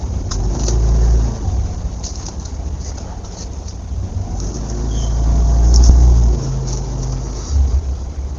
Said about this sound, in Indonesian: Ada motor berisik.